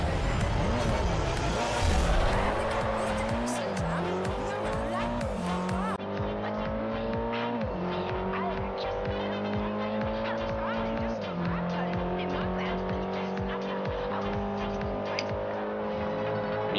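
Race cars roar through a rival race in the Forza Horizon video game on Xbox 360, with engines revving steadily and tires squealing throughout, loud and continuous, mixed with background music.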